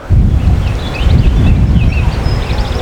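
Wind gusts buffet the microphone beside the River Trent, producing a loud, rumbling low roar that rises and falls throughout, with faint higher sounds in the background.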